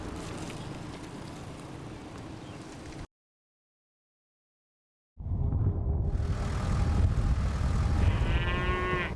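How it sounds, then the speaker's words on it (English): Rodeo cattle on an open ranch west of Eagle Mountain, with low lowing and farm ambience in two loud stretches separated by a few seconds of silence, with no talk. "These are rodeo cows."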